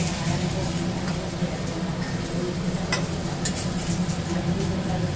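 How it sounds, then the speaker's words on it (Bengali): Eggplant frying in a pan at an outdoor year-end picnic, a steady loud sizzle and stirring hiss running throughout, with a few clinks and voices chatting underneath. "এখন বেগুন রান্না ভাজা হোক"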